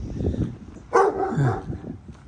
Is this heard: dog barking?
yes